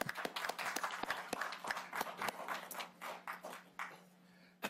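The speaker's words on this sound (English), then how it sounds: "I think we should do applause." Applause at a city council meeting, a dense patter of many hands clapping in an indoor chamber that thins out and fades toward the end, with no talking over it.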